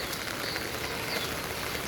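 Steady rain falls in Mandalay, Myanmar, a dense, even patter of drops on surfaces that stays close and constant without any voices.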